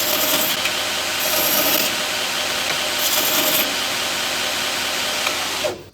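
A knife handle is sanded at a low variable-speed setting, producing a steady broadband rubbing whir that stays even for about six seconds before cutting off abruptly.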